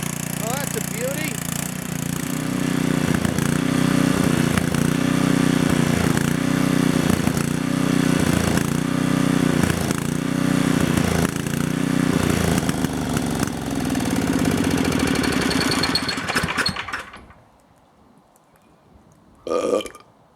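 Petrol generator running after a cold start with the choke on, a steady loud throbbing engine drone that lasts about sixteen seconds and then stops abruptly, followed by near silence and a brief final noise.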